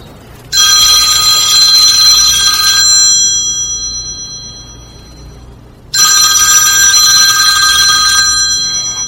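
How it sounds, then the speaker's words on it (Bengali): A telephone rings on a live call-in TV show, two loud electronic bursts of trilling bell tone separated by a pause of a few seconds, close and clear with no talk. "একজন দর্শক আমাদের ফোন করছেন"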